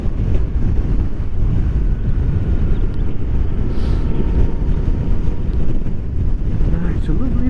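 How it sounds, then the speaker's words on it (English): Strong gusty wind buffets the microphone while riding a Honda NC750XA motorcycle on a blustery day, a loud continuous low roar and rumble filling the whole stretch with no clear engine note above it. "this wind is bloody awful. Very gusty"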